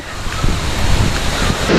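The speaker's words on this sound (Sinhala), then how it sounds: "මැප් එකේ සඳහන් වෙන විදිහට මෙතන මේ කඩාගෙන හැලෙන්නේ ඉන්දුවර ඇල්ල කියන එක" Induwara waterfall near Kuruwita crashing down, a loud continuous roar of falling water mixed with wind buffeting the microphone.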